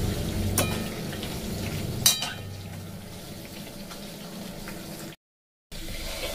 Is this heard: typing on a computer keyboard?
no